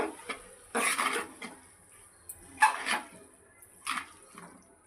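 A spoon scrapes and clatters in a pan while salted ingredients for a paneer egg-style fry are stirred together, producing several short, close bursts of mixing noise separated by quiet pauses.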